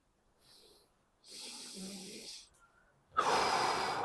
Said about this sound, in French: Je respire pas vers le haut, je respire vraiment vers le bas et j'envoie tout mon air vers le bas